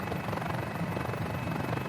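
A Mini-500 helicopter in Microsoft Flight Simulator taxis toward a runway, its rotor and engine giving a steady, dense, close drone with a fast rhythmic chop throughout.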